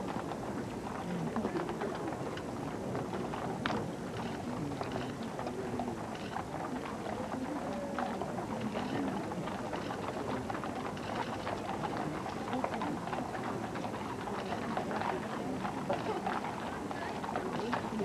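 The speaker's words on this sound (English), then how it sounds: "Just the sound of horses' hooves." Horses' hooves clip-clop steadily at a walking pace, drawing a funeral procession, over a dense, noisy outdoor background, continuing evenly throughout without pause.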